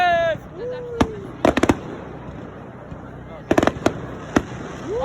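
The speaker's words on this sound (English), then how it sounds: "It's actually a really nice fireworks show." Fireworks show at a high school pep rally: several sharp bursts and crackling clusters of pops, some in quick groups, with a rising whistle early on and excited voices talking over the outdoor background.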